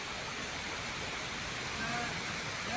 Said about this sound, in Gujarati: ધરતી માતાના મંદિર પાસે ડુંગર પરથી આ ધોધ વહે છે